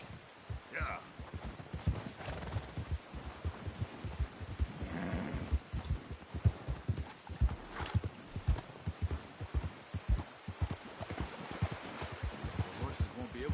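Horses in the Red Dead Redemption 2 video game walk with a steady stream of hoof clip-clops over dirt and under ongoing game ambience, with people talking throughout.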